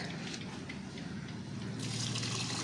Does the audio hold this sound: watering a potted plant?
yes